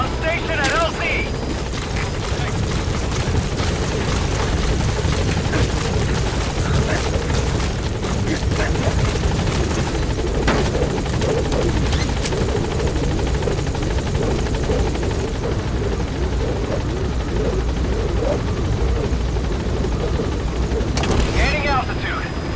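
Pequod helicopter hovering at a landing zone in the video game Metal Gear Solid V, a loud, continuous rotor roar and engine drone that fills the whole stretch, with a radio voice speaking over it.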